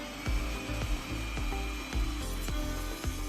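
A CNC milling machine cutting a groove in wood, its steady motor whine running throughout with a string of sharp regular clicks or knocks roughly every half second, fairly loud and close.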